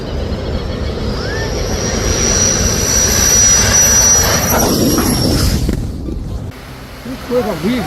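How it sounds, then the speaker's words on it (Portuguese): A loud jet engine roars steadily as an aircraft lands and overruns the runway, with a rushing wash of noise that swells and then drops away abruptly. "O avião parecia pousar sem problemas, até que ele atravessa a pista."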